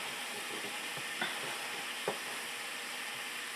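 Water boiling and sizzling on a hot griddle, a continuous close hiss with a couple of brief louder pops and crackles, heard alone without talk.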